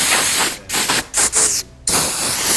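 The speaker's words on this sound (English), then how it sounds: "Spraying her off." Water spray hissing against a tour bus during cleaning, loud and close in bursts with a few brief pauses between blasts.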